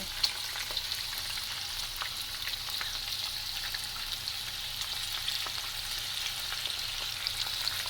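Shishito peppers (friggitelli) fry in a pan over moderate heat, giving a steady, fairly quiet sizzle with faint crackles throughout and no talking.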